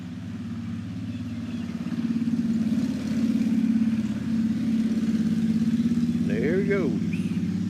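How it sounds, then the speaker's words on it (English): A motorcycle on a road at sunrise, its engine a steady droning hum that builds and holds as it comes along, with birds chirping near the end. "Sounds like got a motorcycle coming down the road."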